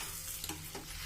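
Lentils dry-roasting in a pan for vangibhat masala powder over medium-low flame, with a continuous hiss and a couple of soft stirring scrapes, fairly close.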